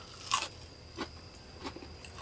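Someone bites into and chews a crunchy, chewy Renaissance-style dish cooked at a vanlife campsite, a sharp close crunch followed by several softer crunching chews.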